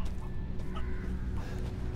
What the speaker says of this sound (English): Chickens in the cut.